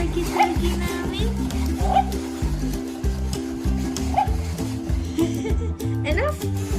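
A Takara Tomy Zoomer Omnibot Playful Pup robot toy dog gives repeated electronic barks and yips over a steady, rhythmic mechanical whir, with people chattering nearby.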